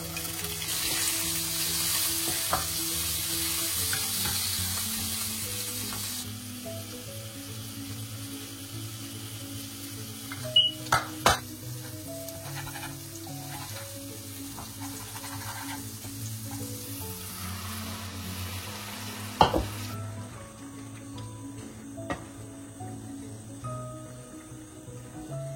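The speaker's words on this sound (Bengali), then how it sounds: "তো আজকে একটু মুগের ডাল আর আলু পোস্ত বানাই" Mung dal and aloo posto cook in a home kitchen, with a soft, steady sizzle of frying under stirring, a few sharp clinks of a spoon against the pan, and a faint running-water hiss in the opening seconds.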